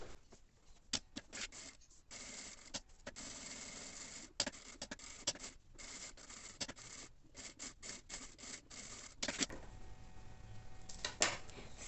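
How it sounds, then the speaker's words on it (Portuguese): A sewing machine runs a safety seam around a fabric edge in short stitching bursts broken by brief pauses, quiet and close, with a rattling mechanical texture throughout. "vou passar uma costurinha de segurança em toda a volta."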